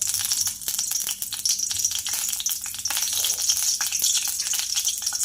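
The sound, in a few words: curry leaves sizzling in hot oil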